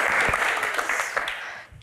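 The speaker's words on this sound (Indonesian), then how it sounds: "Tepuk tangan untuk Gus Imin." A political Q&A audience applauds for Gus Imin, a dense, steady wash of many hands clapping close by that tapers off near the end.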